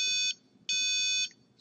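A Robotis CM-510 robot controller's buzzer gives two loud electronic beeps, the first short and the second longer, each a steady high pitched tone with a brief start of a third at the end.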